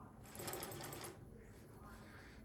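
A fur sewing machine tacks fur fabric in a short, faint burst of rapid stitching, then settles into a quieter mechanical hum.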